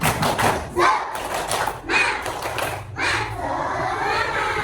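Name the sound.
class doing a rhythmic spirit clap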